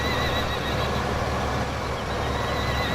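A horse neighs and whinnies in Farming Simulator 2015 near horse stables, over a steady dense background of game ambience, moderately loud and continuous.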